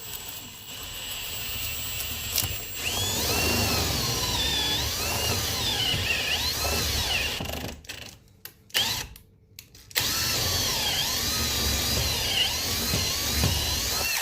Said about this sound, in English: Now you want to make sure you drill nice and straight.